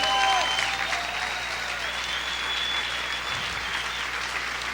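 A church congregation claps loudly and steadily during a sermon, a dense wash of hands filling the space, with organ or keyboard tones lingering underneath and faint voices mixed in.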